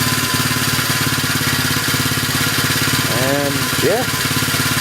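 A 110cc pit bike engine runs at a steady, loud idle with a fast, even pulse close by, and a person talks briefly over it.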